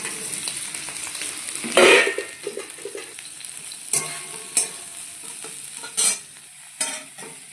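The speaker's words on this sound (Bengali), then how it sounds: "এবার আমি সোয়াবিনটা ভেজে নেব" Soybean chunks fry in a hot pan with a steady, close sizzle, broken by sharp scraping and clattering bursts as they are stirred; no one speaks.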